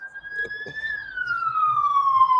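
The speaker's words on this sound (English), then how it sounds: "as soon as I get up to do that, freaking sirens go by" Police sirens pass by outside a house, a single clear wailing tone that rises slightly and then slides down in pitch as it moves away, loud over faint background noise.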